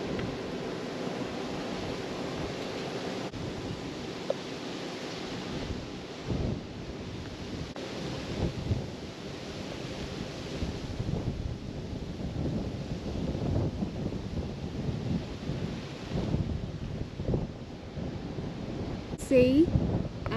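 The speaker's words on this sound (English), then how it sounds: "because it's really windy" Strong wind gusts roar across the open cut mine lookout at Lunatic Hill, buffeting the microphone as a continuous rumbling rush with surges and dips throughout.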